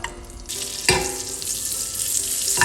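Butter dropped into a warm pan for a classic French omelette, a sudden burst of sizzling that settles into a steady hiss of melting butter, close and fairly loud with no voices.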